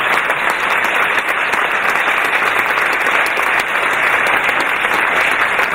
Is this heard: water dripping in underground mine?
no